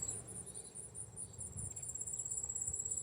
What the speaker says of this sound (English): Those bugs are a great intro.